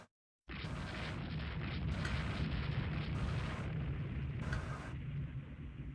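Torpedo hits explode against transport ships during a night naval action in the Mediterranean in Rule the Waves 2, a dense continuous rumble of blasts with four distinct bursts standing out, loud and close.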